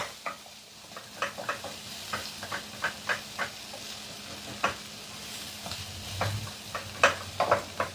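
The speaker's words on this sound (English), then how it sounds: "we're letting that saute up," Sauce with black pepper sautéing in a pan, a close steady sizzle with repeated light scrapes and taps from stirring throughout.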